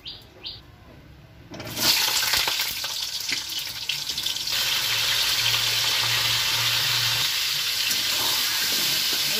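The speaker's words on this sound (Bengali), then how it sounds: "পটলগুলো লাল লাল করে ভেজে নিতে হবে।" Pointed gourd (potol) pieces with turmeric and salt hit a hot kadai, bursting into a loud, steady frying hiss that holds to the end after a quiet start with small clinks.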